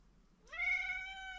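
Luna, a pet cat, lets out a single drawn-out meow that rises and then holds steady, close and fairly clear against a quiet room.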